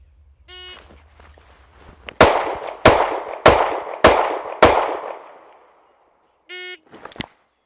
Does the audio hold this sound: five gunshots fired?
yes